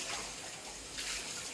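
Water pours steadily from an Aquasure Aquagrand Shield RO water purifier, a continuous close hiss and splash that holds at an even level without a break.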